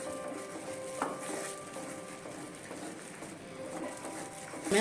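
Thick onion-tomato masala for a Kerala-style prawn roast is sautéed and stirred in oil in a pan, with a soft steady sizzle and scattered spoon scrapes and clinks against the metal, close by.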